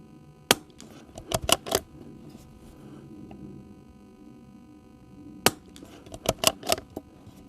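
Shots from a Tikka T1X rifle fitted with a Gem Tech suppressor at a shooting range, a single sharp report followed by a quick cluster of three, then another burst of several cracks after a pause, close and alone.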